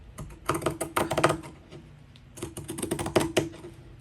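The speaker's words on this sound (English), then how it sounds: "let's see if I can cut this halfway straight" Material for the spine of a Tim Holtz folio journal being cut, heard as two close bursts of rapid crisp clicking snips separated by a short pause.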